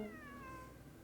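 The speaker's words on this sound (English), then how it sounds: "It really is a cat." A cat meows once in the video game Genshin Impact, a short falling cry that is quiet and stands alone.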